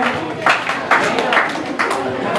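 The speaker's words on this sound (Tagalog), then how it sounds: "Palakpak naman tayo dyan" Party guests at an eighteenth birthday celebration clap together in a brief burst, close and fairly loud, with a few sharper claps standing out.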